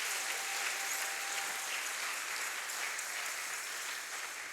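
A church congregation applauds and cheers during a sermon, a dense, steady wash of clapping that fills the room throughout and tapers slightly near the end.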